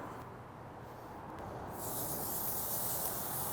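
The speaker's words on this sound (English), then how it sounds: "We're cooking our shrimp today on the Napoleon 665 gas grill over high heat." Napoleon 665 gas grill preheated over high heat, giving a steady broadband hiss that swells louder and brighter partway through and then holds, with no talking.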